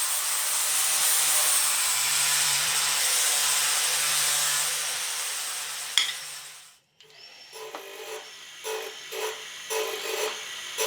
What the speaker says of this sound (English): Next I'll start grinding it back. I'll remove the scale and high spots